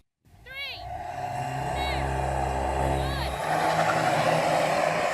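Hot hatchbacks, an Audi S3, BMW M135i, AMG A35 and VW Golf R, launch in a drag race, engines droning and building in a rising roar with tyre chirps, heard from nearby.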